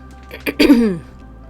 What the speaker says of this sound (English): Might be clearing my throat a lot because I have a lot of signs to go through